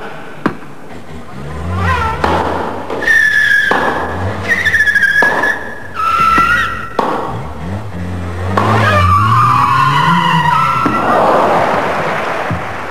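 An 1980s Nissan Micra is driven hard, with a loud engine revving and repeated long tire squeals and skids between short bursts of acceleration, ending in a final drawn-out screech.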